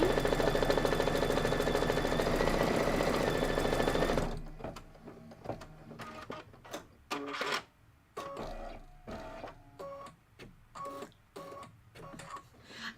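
An embroidery machine stitches out cream thread in a design: a steady, dense whirring run for several seconds, then stops into irregular clicks and short mechanical bursts, close and without talk.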